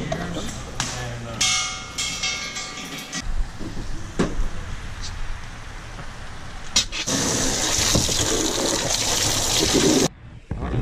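Water gushes loudly into a fish tank used for stocking rainbow trout at a pond, a rushing, splashing pour that starts partway through and cuts off abruptly near the end, with voices talking under the earlier part.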